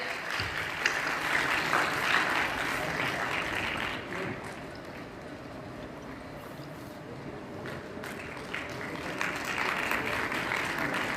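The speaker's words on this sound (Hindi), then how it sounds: "आप लोगों की तालियां रुकनी नहीं चाहिए।" An audience applauds at an award ceremony in a hall, dense clapping that swells, dips to a lower level midway, then rises again, with a voice over the loudspeakers.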